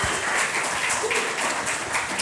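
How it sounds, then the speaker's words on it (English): Applause from an audience welcoming startup panel speakers at a student panel discussion, a continuous patter of many hands clapping at moderate loudness with no talking over it. "Could you give them a round of applause?"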